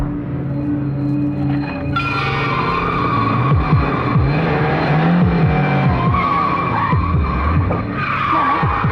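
A car skids loudly with prolonged tire squeals, as if about to hit another vehicle, while engine roar rises and dips behind the screeching over several seconds.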